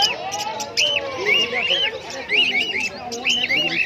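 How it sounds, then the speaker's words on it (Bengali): Several cockatiels chirp and whistle in short, repeated rising calls, close by at a bird market, over a background of indistinct chatter. "ককটেল পাখি, ককটেল পাখি আছে।"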